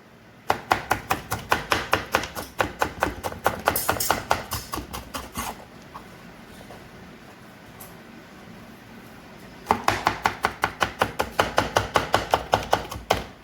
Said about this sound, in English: see the fine chop of carrot.